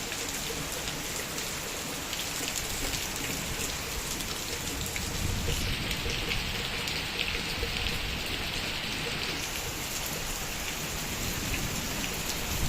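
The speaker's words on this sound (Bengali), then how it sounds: "মুষলধারে বৃষ্টি হচ্ছে" A heavy downpour pounds down in a dense, steady roar of rain that stays loud and unbroken from start to finish.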